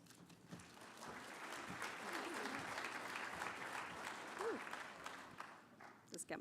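Audience applause at a panel event welcoming a speaker to the stage, steady and sustained clapping from a moderately sized crowd, fairly distant and even, tapering off near the end.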